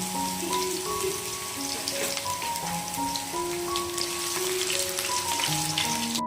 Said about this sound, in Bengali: মশলাগুলো ভালো করে কিন্তু ভাজা হয়ে গেছে